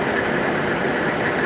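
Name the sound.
vehicle engine running at idle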